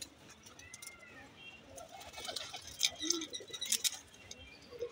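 Madrasi pigeons sitting in a loft, giving soft low coos at close range, with a few light metallic clinks and rustles and a quiet voice in the background.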